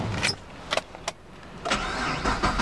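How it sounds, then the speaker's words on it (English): A 2013 Chevrolet Camaro SS with rear-wheel drive starts up: a few brief clicks, then the engine cranks and catches with a loud low rumble that settles into a steady idle. "Let's hear this car start up"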